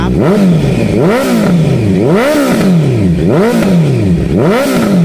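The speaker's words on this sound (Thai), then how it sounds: "เดี๋ยวขออนุญาตเปิดเครื่องนะครับให้เพื่อนๆพี่ๆทุกท่านได้ฟังเสียงท่อกันบ้างครับ" A 2019 Honda CB650F motorcycle engine revs up and down repeatedly in a steady rhythm, its exhaust roaring loud and close with a rattling edge.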